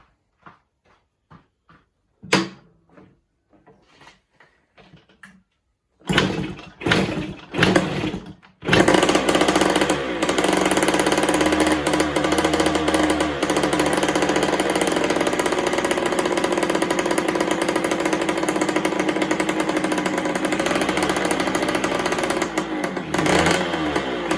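A few quiet clicks and taps, then a 1979 Kawasaki KX80 dirt bike engine sputters and catches after several tries, settling into a loud, steady idle.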